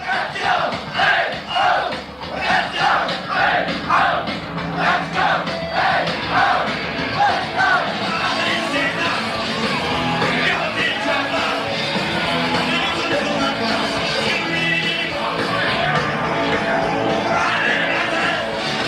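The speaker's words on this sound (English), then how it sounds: "it's the crowd unison roar that's actually cramping the sound of the music from getting to the tiny mic on the Walkman" Concert crowd at a tribute show, recorded on a Walkman's tiny mic, roars and chants in rhythmic unison bursts, then swells into a continuous loud roar that buries the music.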